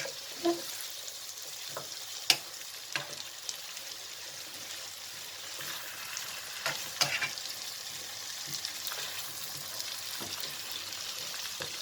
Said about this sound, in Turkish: 400 gram kadar tavuk budumu yüksek ateşte arkadaşlar güzelce soteliyorum